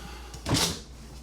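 The door of a large refrigerator in a 2027 KZ Durango 302RLT fifth-wheel RV swings open with one soft whooshing, rustling burst, short and close in a quiet room.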